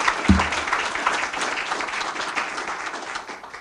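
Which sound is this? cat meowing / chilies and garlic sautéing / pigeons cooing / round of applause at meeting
round of applause at meeting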